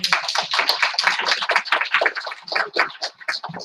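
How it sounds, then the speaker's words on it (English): A small audience at a senior conference session gives a round of applause, close, crisp individual claps in a steady patter with no talk over it. "So please join me again in a round of applause."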